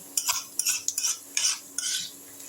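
Gobindobhog rice is stirred in hot mustard oil, with quick, loud, rhythmic scrapes and rattles of a spatula over a light sizzle, close up and with no talking.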